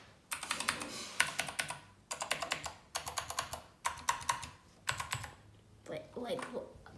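Rapid bursts of clicky gaming keyboard keys pressed in several quick runs, crisp and close, with brief pauses between groups and no talking.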